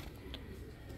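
A single soft coo from an Ice Pigeon, faint and brief against a low background rumble.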